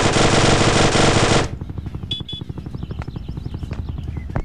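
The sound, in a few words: video game machine gun fire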